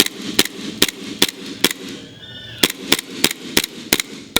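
An airsoft gun running on green gas fires a rapid string of sharp, close cracks, about a dozen shots with a brief pause midway and a faint hiss between bursts.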